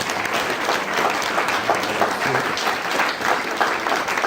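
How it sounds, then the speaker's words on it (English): An audience at an Alcoholics Anonymous meeting gives a steady round of applause, dense clapping from many hands that stays even and fairly close for the whole stretch. "Everybody, please, round of applause for"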